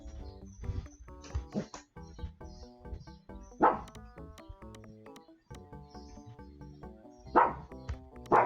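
A cartoon dog barks in the adventure game Monkey Island 2: LeChuck's Revenge. A few short, sharp yaps sit over bouncy looping game music.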